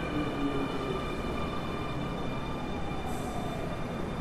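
A vacuum maglev train gives a continuous, close rumble with a steady high whine on top, unbroken across the few seconds and with no voices.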